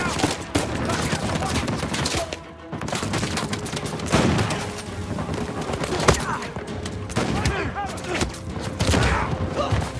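Turret gunfire in Uncharted 4 rattles in dense, loud bursts of rapid shots and impacts, nearly continuous across the stretch with only a brief lull.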